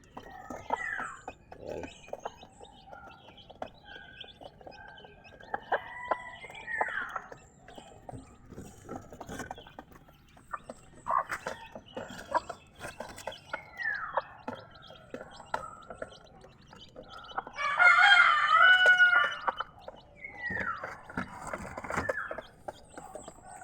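Native chickens kept on a small backyard farm cluck and call in scattered bursts, with a louder, denser stretch of crowing-like calls near the end over a busy outdoor background.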